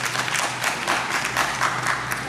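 A brief burst of applause from a small audience at a book launch during a literary festival, steady clapping throughout at moderate loudness.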